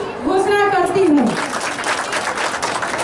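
Crowd clapping rises at the opening of the Bhojpur district school sports competition 2021-22 in Ara, following a brief amplified voice, then fills the space as broad, continuous applause.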